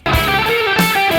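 Electric guitar picks out a phrase from a song's solo, bright sustained notes with bends and slides ringing over a dense tone, played alone and close for about a second.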